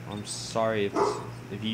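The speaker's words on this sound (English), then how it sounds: "You can hear my dog probably barking." A dog barks and yips in the background of a room while someone talks over it, with a few short yaps that sound moderately near.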